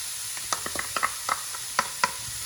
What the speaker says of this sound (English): we're going to fry this first.